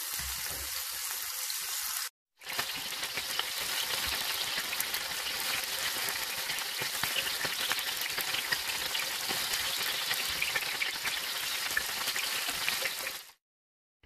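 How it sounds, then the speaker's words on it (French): Stuffed ground meat patties with egg sizzle steadily in a frying pan, a dense continuous crackle near and loud after a brief opening gap, with no voices. "dans ma poêle et on les laisse cuire"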